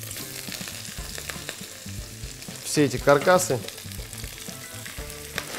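Fish scraps and a zander head sizzle and crackle in a hot pan, with stirring clatter and a brief louder burst of spattering; a voice speaks briefly over it.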